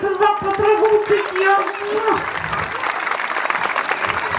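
An audience claps in sustained applause at an outdoor summer concert in the Ağlayan Kaya amphitheatre, with a voice speaking over the opening seconds.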